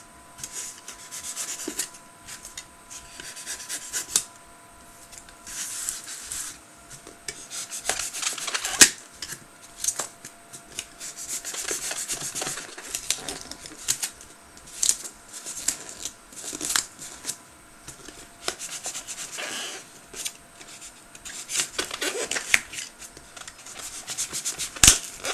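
Hand carving in what appears to be wood, cutting pieces out with a blade. Close, dry scraping and rasping strokes come in irregular bursts throughout, with no voice.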